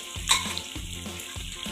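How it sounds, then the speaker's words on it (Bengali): Capsicum frying in a pan, with a continuous close sizzle and rhythmic scraping strokes as it is stirred, roughly three passes in quick succession. "ক্যাপসিকামটাকে ভাজবো এবার"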